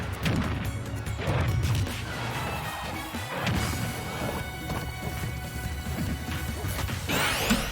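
A Final Smash lands in a Super Smash Bros Amiibo match, bringing a run of loud crashing hits and thwacks, with whooshes and bursts of impact noise across the clip.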